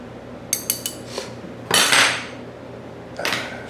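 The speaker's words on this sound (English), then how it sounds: "We've got a standard butter knife, which I'm sure everyone has in their kitchen" A standard butter knife clinks against kitchen dishes and counter, with a quick run of three sharp metallic taps followed by two louder, longer scraping clatters, all close by and without speech.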